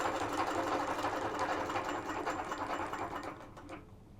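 An HQ Moxie longarm quilting machine runs at a long basting stitch length of about four stitches per inch, giving a steady, close, rapid mechanical whir that fades out near the end.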